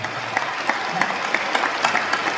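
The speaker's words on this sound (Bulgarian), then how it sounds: "Те заслужават аплодисментите." Audience applause in a concert hall during a rhythmic gymnastics championship show, dense steady clapping from a large crowd with individual sharp claps standing out, loud and close, no talk.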